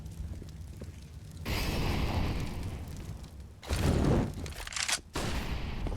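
Grenade and molotov blasts in a competitive CS:GO match on Banana, two loud bursts of explosive noise with a sharp cutoff between them, over continuous game ambience.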